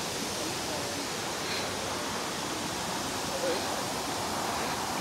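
Steady broadband roar of a waterfall in Oregon, a constant rushing wash of water with no gaps, heard up close and fairly loud throughout.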